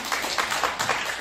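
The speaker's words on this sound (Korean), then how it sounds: "박수 안 쳐주시면 박수 쳐달라고 하려고 했는데 정말 고맙습니다" Audience in a National Assembly library auditorium claps in a short, steady burst of applause, a dense wash of many hands heard up close and moderately loud.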